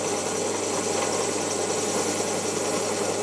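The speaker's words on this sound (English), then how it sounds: "I'm just going to give this a very quick brush on the wire wheel." A bench grinder's wire wheel brushes rust off a metal part, giving a steady, loud broadband whirring roar with a constant motor hum underneath, running unbroken for a few seconds with no one speaking.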